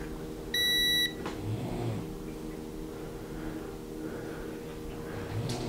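A digital multimeter in diode test mode gives one steady electronic beep, a stack of pure tones lasting about half a second, close and clear over a low hum, while a TurboGrafx 16 console is being repaired.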